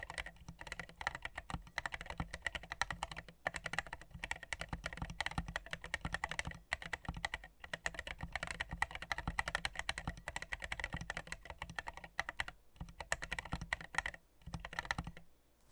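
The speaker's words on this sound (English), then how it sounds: "we're gonna go do a typing test and we'll see how this actually sounds" Fast, continuous clacking of keys on a mechanical keyboard, with dense rapid keystrokes and a few brief pauses, close up and without speech.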